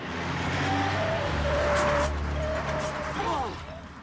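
A pickup truck in a mid-1980s action film escape scene drives off with engine rumble and road noise, loud and close, with shouting and talk over it and a brief squeal near the end.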